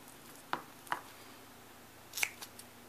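Scissors snip roughly around foam-mounted stamped paper sentiments in a few separate, close cuts, with quiet pauses between the snips.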